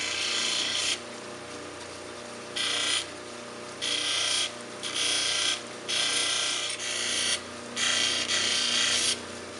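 A cabbing machine grinds the bevel on a wonderstone cabochon, producing a harsh, steady rasping hiss that swells and drops in about five distinct passes as the stone is rocked against the wheel, with quieter running between passes.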